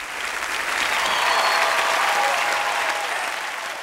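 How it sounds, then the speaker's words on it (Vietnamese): Steady, dense applause from a young audience in a hall during the final of a cai luong vọng cổ singing contest, sustained and even throughout with no talking over it. "Giới trẻ hay vỗ tay cho cải lương một lần nữa coi nào."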